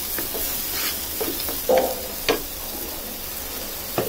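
Masala with salt and extra coriander powder being stirred in a frying pan, a continuous sizzle broken by several scraping spoon strokes and light knocks against the pan.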